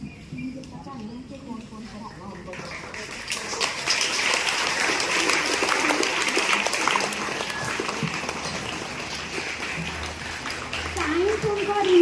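At a school honour ceremony for class 10 students, an audience breaks into loud, sustained clapping after someone speaks briefly. The applause keeps on at a steady level to the end.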